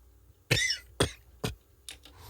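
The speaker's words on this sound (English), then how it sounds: "That was me just coughing, by the way." Four dry coughs, close and sharp, spaced about half a second apart, the last one softer and doubled.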